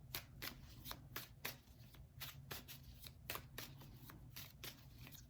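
Tarot cards being shuffled by hand, a steady run of crisp riffling flutters heard close and fairly quiet, with no talking.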